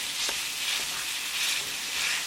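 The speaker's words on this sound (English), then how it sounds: "Now add ground lamb keema, and break it and keep mixing and keep breaking like this." Ground lamb keema sizzles steadily in a hot pan over medium heat, with a constant bright crackle and a few soft scraping stirs close by, no voices.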